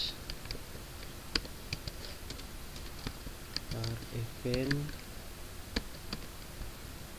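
Programming code being typed on a computer keyboard, a quick irregular patter of close key clicks and taps, with someone speaking briefly partway through.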